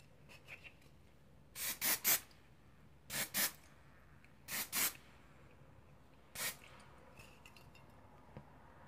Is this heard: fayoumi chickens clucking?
no